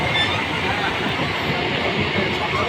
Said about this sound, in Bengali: এদিকে ট্রেনও ছেড়ে দিয়েছে, দেখতে পাচ্ছ।